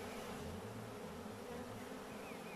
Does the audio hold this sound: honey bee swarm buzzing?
yes